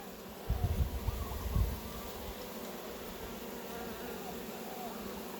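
Honeybees in an open hive give off a low, continuous buzzing hum, with a few soft low thumps near the start and no talking.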